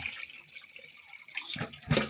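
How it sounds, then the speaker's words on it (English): Rinsing water from dyeing elderberry-dyed fabric tipped out of a jug, a faint low hiss that swells into a couple of splashing pours toward the end, close by with no talk. "tip out the rinsing water."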